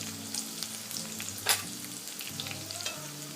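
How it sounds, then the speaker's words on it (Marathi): Cumin, ginger, garlic and curry leaves frying in hot oil for Khandeshi dal vangyachi bhaji, a steady close sizzle with a brief stirring clatter midway, no talking. "तेल गरम झाल्यावर यामध्ये जिरं घालायचं, यानंतर आलं लसूण ठेचून घेतलेलं चांगलं तेलावर परतवून घ्यायचं आहे।"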